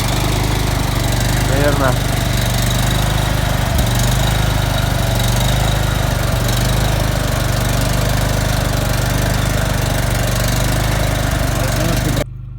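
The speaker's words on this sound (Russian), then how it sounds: "Генератор еще не прогрелся, поэтому так," A portable petrol generator, not yet warmed up in -30 cold, chugs loudly and steadily close by, while someone speaks briefly over it.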